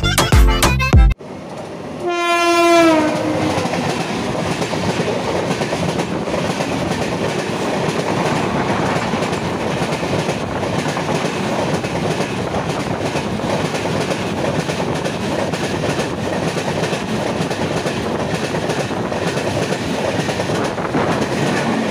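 Inside a 2nd AC coach of the Chennai Mail Express between Howrah and Chennai Central, a loud, steady rumble of the running train continues throughout, preceded by a short horn-like tone near the start.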